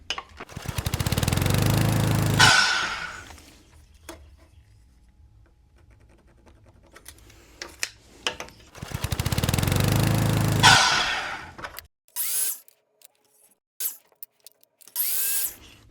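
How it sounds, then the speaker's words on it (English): A saw cuts wood at a 45-degree angle, two loud sustained bursts of a few seconds each with quiet handling noise between, followed by short clattering knocks. "So we'll set our miter box to a 45 and make these first cuts."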